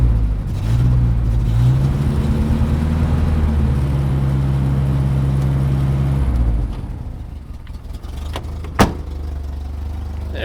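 Jeep MJ pickup engine that sat all winter, idling roughly with steady low rumble and a throttle blip raising the revs, then dropping away to a quieter idle with a brief knock near the end.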